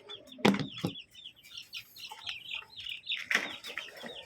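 Chickens flap their wings in sudden bursts close by during feeding, with soft clucks and chirps in between.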